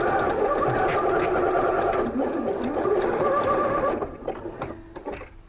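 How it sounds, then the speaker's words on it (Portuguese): Sewing machine stitching binding on a patchwork piece, a fast, steady mechanical whirr that runs continuously for about four seconds, then stops with a few faint clicks. "eu passo novamente a costura."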